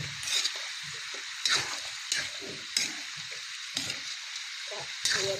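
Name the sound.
stirring chicken feet adobo in coconut milk in a pan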